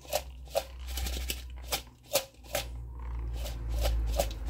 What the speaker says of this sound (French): Tout ça, je le mélange. Hein, je le mélange. Il faut bien mélanger.